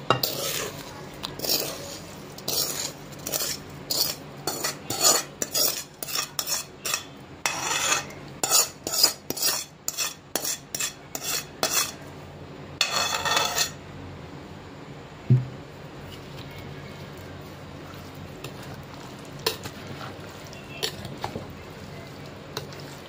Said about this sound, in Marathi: ह्या ज्या कैरीच्या खापा आहे याच्यामध्ये हा मसाला आपण मिक्स करून घ्यायचा आहे